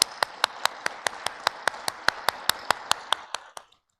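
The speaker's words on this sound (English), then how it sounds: "let's give them a round of applause" Clapping at the 2020 ICPC North America Championship: about sixteen evenly spaced, crisp claps in a steady rhythm, heard close, then stopping abruptly.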